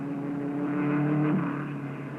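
A 1959 Porsche racing car speeds down the Lavant straight, a faint, steady engine drone with a slight rise in pitch as it passes, heard alone.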